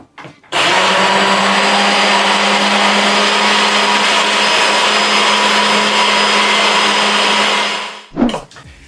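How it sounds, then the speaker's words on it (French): A soup blender mixes a chocolate mousse or ganache, its motor whirring loudly and steadily for about seven and a half seconds before switching off with a brief clatter. "si vous avez un mixeur à soupe, eh bien vous allez le mixer"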